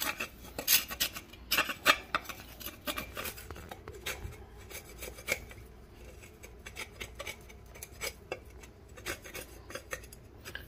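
A knife scraping the husk of a coconut to clean it, a close series of dry, rasping scrapes and clicks in irregular strokes, loudest early and then lighter and steadier.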